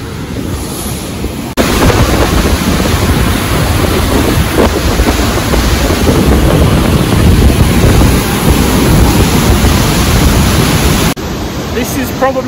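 Rapid river water rushing beneath a bridge in Sok Valley near Upper Kachura Lake, a loud, dense, continuous roar close by, heavier through the middle, with wind buffeting the microphone.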